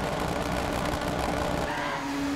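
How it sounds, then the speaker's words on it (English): Car engine in the rally video game Dirt 3, a steady broadband drone held at even loudness throughout, with a sustained tone rising in pitch near the end as the car accelerates. "Have a listen to that engine."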